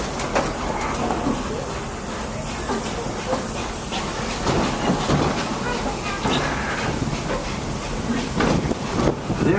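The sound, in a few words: steam train running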